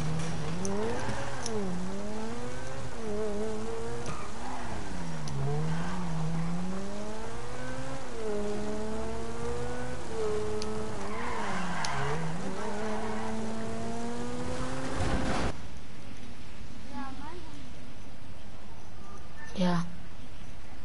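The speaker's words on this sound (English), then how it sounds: "This car can make it up there fast." Car in GTA Online driving fast, engine revving up and down through repeated rising and falling pitch sweeps, loud and steady for about fifteen seconds before cutting away to quieter game sounds, with a voice talking over it.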